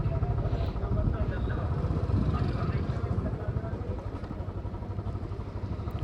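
A Bullet motorcycle engine rumbles steadily up close in a parking area by shops, a low continuous drone throughout, with voices and general bustle mixed in around it.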